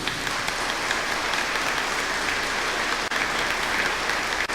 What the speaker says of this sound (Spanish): Un aplauso para la Eucaristía.